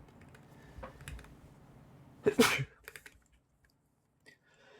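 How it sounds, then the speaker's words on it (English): A single sharp, loud sneeze bursts out amid quiet keyboard clicks and faint background sounds. "Yeah, I need to sneeze."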